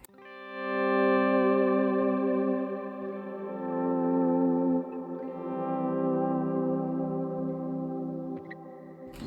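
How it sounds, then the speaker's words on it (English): Electric guitar through a cloud reverb pedal set to a very long decay and high mix, sustaining a dense, shimmering chord that swells and blooms continuously for about nine seconds with a wide, washy tail. "I'm using the cloud reverb with a really long decay and mix"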